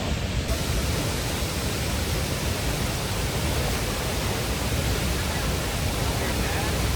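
Havasu Falls in the Havasupai canyon pours in a dense, constant roar, a loud broadband rush of falling water that holds steady without a break.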